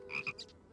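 A cartoon frog gives a short, bright double croak followed by a softer third note, close and clear in under a second.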